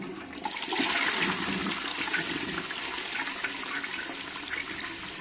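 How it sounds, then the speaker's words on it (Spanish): A toilet flushes with a loud rushing gush of water that starts abruptly and keeps pouring and swirling steadily, with no voices. "pulsáis los botones y entonces el váter soltará agua y mágicamente la mierda desaparecerá"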